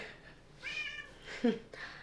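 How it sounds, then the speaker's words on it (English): A cat gives two short meows close by, the second higher and sharper, in an otherwise quiet room. "You can't meow the second you jump out of my arms"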